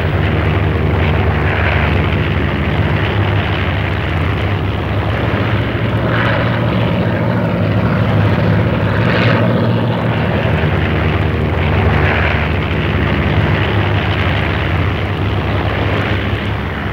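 A propeller airplane engine drones steadily in flight, loud, close and continuous, with a dense even roar and no break or change in level throughout.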